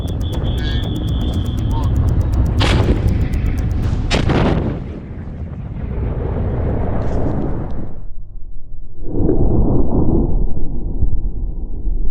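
The main gun of a Challenger 3 battle tank fires on a range, giving heavy booming blasts that roll out and echo, with a low rumble and wind noise in between, loud and outdoors.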